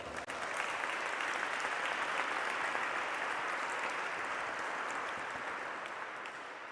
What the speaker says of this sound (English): Applaud yourselves for that.